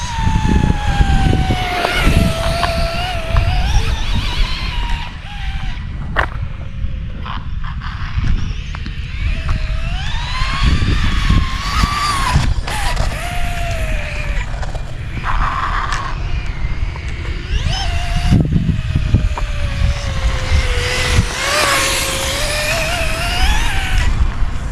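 Losi Promoto SM RC supermoto motorcycle whining through corners, its electric motor tone rising and falling repeatedly over a rough surface, with intermittent clicks and scuffs nearby.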